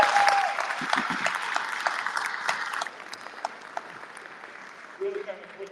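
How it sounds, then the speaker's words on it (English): Audience applause at a military change of command ceremony, strongest at first and thinning out after a few seconds, with a faint voice near the end. "So big round of applause."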